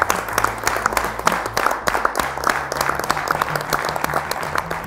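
An audience at a French talk on artificial intelligence and work claps for itself, with sustained, lively applause from the whole room, loud and continuous throughout, and a low tone running underneath.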